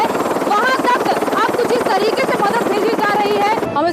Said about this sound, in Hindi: लोगों तक अब हेलीकॉप्टर के जरिए राशन पहुंचाया जा रहा है